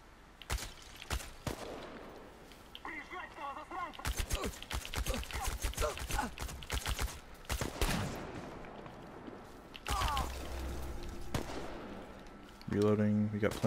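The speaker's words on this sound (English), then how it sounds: "Who's shooting at me?" Gunfire in the video game Chernobylite, bursts of sharp shots in rapid irregular volleys, some close and loud, mixed with other game effects and brief voice sounds.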